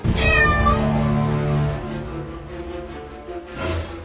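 A loud, drawn-out cartoon cat meow, sliding down in pitch, followed by a short rising cry at the end.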